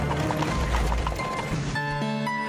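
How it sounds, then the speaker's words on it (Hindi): A horse gallops fast in a story sound effect, clip-clop hoofbeats running quickly and fairly close for about two seconds before a sustained tonal musical sting takes over. "तेज गति से दौड़ता हुआ एक घोड़ा आया और उससे बहुत आगे निकल गया"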